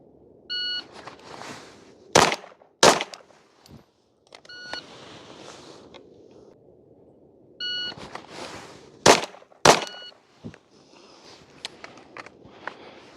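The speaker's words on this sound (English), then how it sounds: "this time we'll be drawing and firing 5 rounds strong hand only in 5 seconds" Handgun shots fired from the draw, strong hand only, on a timed shooting stage: electronic timer beeps are followed by loud, sharp reports in quick pairs, with quiet shuffling in between.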